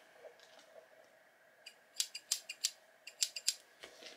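Small skull-shaped scissors from a craft subscription box are handled, then snipped repeatedly in crisp metallic clicks, about a dozen quick near cuts in an irregular rhythm, with no talk.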